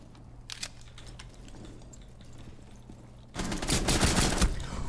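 Gunfire from a pistol in the tactical shooter Rainbow Six Siege against AI bots, with a few sharp shots early followed by a dense, loud burst of rapid overlapping shots near the end.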